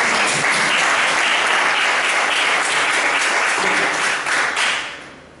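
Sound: audience applause

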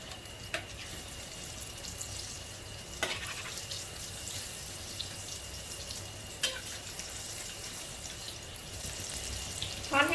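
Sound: frying cha-om omelette pieces in oil over medium heat

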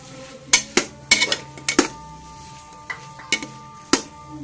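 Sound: mixing cauliflower and potatoes in a cooking pot

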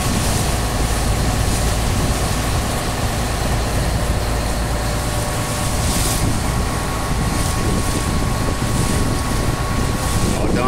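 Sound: speedboat motor running at sea, Fernando de Noronha

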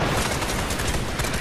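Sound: gunfire in the video game Fortnite

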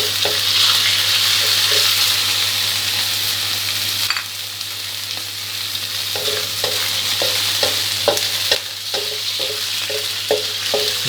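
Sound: chicken stir-frying in a pan

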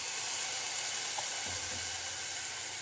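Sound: cauliflower (gobi) frying in a pan with sauces

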